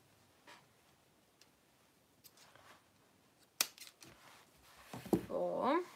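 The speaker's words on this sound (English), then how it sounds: "first we need to cut off some string" Scissors snip through string at a napkin decoupage craft table, giving a few quiet, sharp cuts in a mostly hushed room, with a voice briefly heard toward the end.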